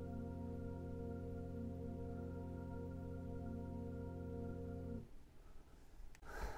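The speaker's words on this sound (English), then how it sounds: "it turns out you can actually test the vehicle engine sound system" Hyundai Ioniq artificial engine sound system under test, producing a steady synthetic humming drone with layered tones that holds for about five seconds and then cuts off, faint overall.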